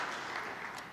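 An audience at a chamber of commerce annual meeting and award evening applauds in a brief, steady wash of clapping heard from a moderate distance.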